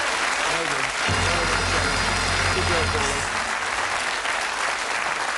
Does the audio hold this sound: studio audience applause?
yes